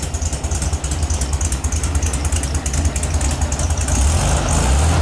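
A 1972 Volkswagen Super Beetle engine runs steadily and loudly at idle, a rough continuous rumble that picks up slightly near the end.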